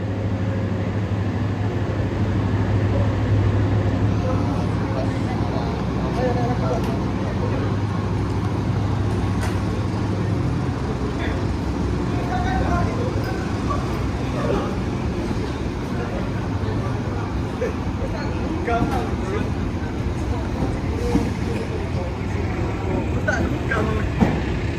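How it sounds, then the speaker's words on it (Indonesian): A commuter train on the line toward Surabaya Kota station, Indonesia, rumbling steadily with a deep low drone and rattling wheels, heard from inside at close range for a long stretch, with faint voices beneath. "Keretanya langsung berangkat menuju ke tujuan akhir stasiun Surabaya Kota."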